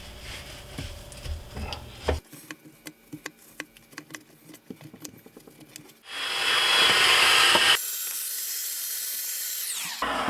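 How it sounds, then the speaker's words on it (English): A cordless drill backs screws out of a Samsung dishwasher filter, with short clicks and handling taps followed by a sustained high motor whir that shifts pitch midway, close and moderately loud. "when you're removing the screws with this drill, be very careful"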